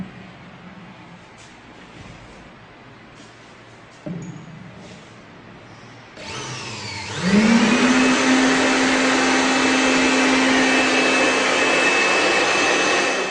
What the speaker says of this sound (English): we will be using blower just to demonstrate how we are transferring fresh and compressed air inside the outer casing